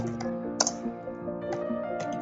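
Computer keyboard typing while entering text for a makeup business flyer in CorelDRAW: a few sparse, close key clicks scattered over a steady bed of background music, with no talking.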